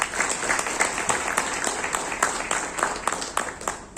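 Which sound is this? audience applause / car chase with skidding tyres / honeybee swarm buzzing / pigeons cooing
audience applause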